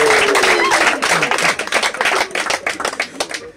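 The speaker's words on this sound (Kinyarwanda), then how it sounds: "mwahaye amashyi" A crowd claps at a 50th wedding anniversary celebration, the applause building into a dense, lively patter of many hands close by and continuing to the end.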